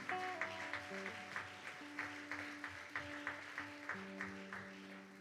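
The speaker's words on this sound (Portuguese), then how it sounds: "Dá uma salva de palmas ao Senhor." Church congregation clapping together in a regular rhythmic beat, faint and somewhat distant, over sustained keyboard chords playing in the hall.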